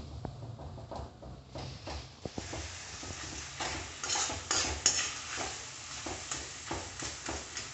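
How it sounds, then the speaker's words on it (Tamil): Tomato masala for prawn curry is stirred and mashed in a pan over medium flame: scraping, clattering strokes of a spoon over a constant frying sizzle, close and alone. "இதை கொஞ்சம் நல்லா மசிச்சு விடலாம் தக்காளி எல்லாமே"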